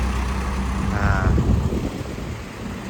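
A truck carrying night market rides pulls in at a field in Karangbener, its low engine rumble steady and fairly close, with someone speaking briefly over it.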